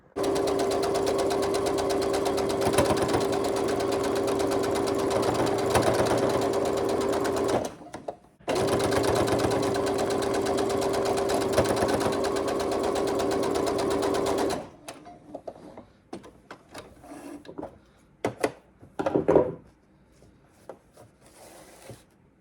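A sewing machine runs loud and steady while stitching quilt strips together, with a brief pause midway, then stops, followed by quieter clicks and fabric handling.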